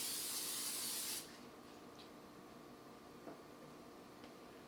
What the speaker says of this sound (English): give it a spray with your extra virgin olive oil